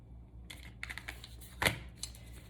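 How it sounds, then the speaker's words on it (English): Tarot cards shuffled by hand close by: a quiet, brief run of soft papery taps and riffles with one sharper snap in the middle. "Okay, Spirit, we're going to shuffle one more time here"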